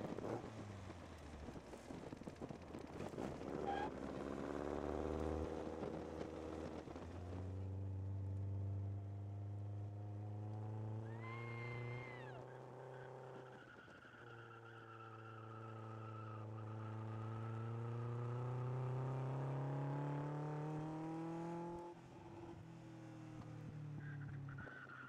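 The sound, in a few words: powerful fast car driving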